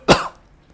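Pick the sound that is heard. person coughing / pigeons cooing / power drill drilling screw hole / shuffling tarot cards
person coughing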